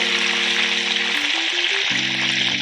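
Shrimp sizzling and frying in a pan for spicy garlic island-style shrimp, a loud steady crackle with faint tonal hum beneath, no talk.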